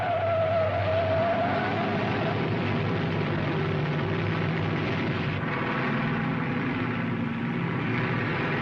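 Race cars on a track in a 1967 film roar past in a loud, continuous engine drone with a tire squeal at the start, with no talk over it.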